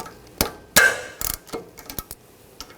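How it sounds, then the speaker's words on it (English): A 13mm socket wrench loosens the rear brake caliper bolts on a 2015-2020 Cadillac Escalade, giving a few sharp, close metallic clicks and knocks at irregular intervals with quiet gaps between. "I'm going to take these caliper bolts out. Use a 13mm socket."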